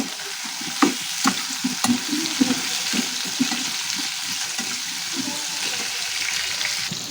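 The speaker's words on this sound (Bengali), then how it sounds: "দিয়ে কিন্তু আপনার কড়াইতে একটুখানি নাড়াচাড়া করে দেবো এটাকে" Pumpkin and onion frying in mustard oil get stirred in a kadai: a continuous close sizzle broken by repeated scraping clacks of a spatula against the pan at an irregular rhythm, with no voices.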